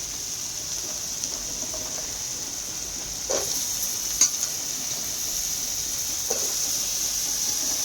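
Spice paste fries quietly in oil for a Bengali pointed gourd vine curry, a soft steady sizzle with a few light scrapes of stirring, faint and continuous with no voices.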